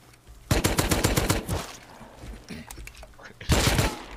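Rapid bursts of automatic gunfire from the video game Rust, a loud rattling volley followed by scattered shots and another sharp burst near the end, with a voice talking between them.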